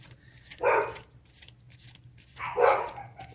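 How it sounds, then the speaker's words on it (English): A dog barks twice in short bursts, close by, indoors during a thunderstorm, with quiet gaps between the barks. "She's barking at thunder."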